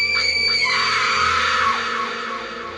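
A woman screams in terror in a horror story set during a night car journey, one loud sustained shriek that holds steady and then slowly fades over about three seconds.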